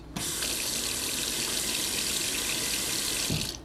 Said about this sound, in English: you don't need strong hands to turn on the faucet